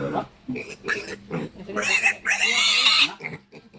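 A piglet squeals while someone handles it for deworming. Short grunts lead into a loud, shrill squeal lasting about a second, heard close up, with people talking around it.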